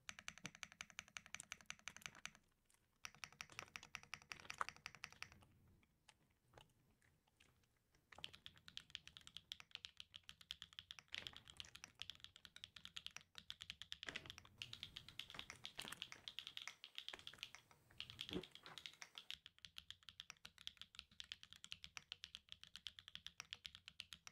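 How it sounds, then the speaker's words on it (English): Steady typing on a Neo Ergo mechanical keyboard, with rapid clacky keystrokes running almost continuously, a short pause near the start, heard close and alone without talk. "it sounds like a keyboard"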